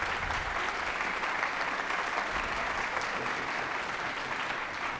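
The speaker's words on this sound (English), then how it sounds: "let's give them a huge round of applause." An audience at a spring string concert gives guests a steady, sustained round of applause, dense clapping heard alone without talk throughout.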